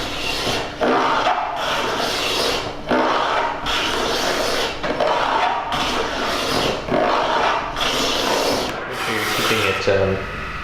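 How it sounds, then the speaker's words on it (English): Repeated rasping strokes of sandpaper on a radiusing block working a guitar fretboard, steady back-and-forth rubbing that fills the scene, close and loud with brief pauses between passes. "using the radiusing block with sandpaper on it"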